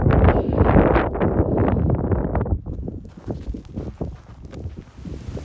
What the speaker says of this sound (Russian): сегодня просто невероятно сильный ветер